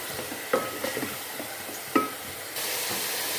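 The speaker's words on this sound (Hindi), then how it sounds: "3 से 4 मिनट को मसालों को हम अच्छे से भून लेंगे।" Ground spices fry in a pan for beef dum keema, giving a steady soft sizzle with a few close stirring scrapes and clicks.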